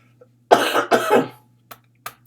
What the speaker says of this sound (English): I'm about to start coughing like crazy.